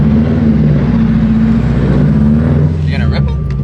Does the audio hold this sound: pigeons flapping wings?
no